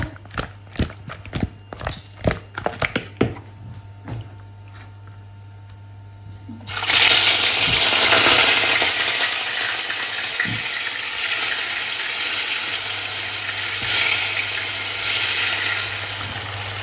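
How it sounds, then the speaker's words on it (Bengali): Fish pieces fried in a pan before being cooked down with tomato, a sudden loud sizzle bursting in after several seconds of clattering knocks, then settling into a steady frying hiss. "আমি মাছের প্লেটটা একটু টমেটোতে ভুনা করতে চাচ্ছি তার আগে একটু ভেজে নিব"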